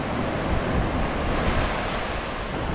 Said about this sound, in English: Sea is so calm.